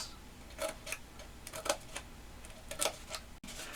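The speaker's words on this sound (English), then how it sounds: "just take our scissors and go up probably about, say about 1/2 inch or so" Scissors cutting slits about half an inch apart for a rustic candy corn fall craft, a faint series of short crisp snips at an uneven rhythm in a quiet room.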